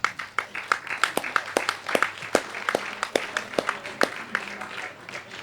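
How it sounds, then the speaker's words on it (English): Audience applause in a hall at a European equipped powerlifting championship medal ceremony, with steady, moderately loud clapping from a modest crowd. Sharp individual claps stand out in an uneven rhythm. "a big applause to Ugdal."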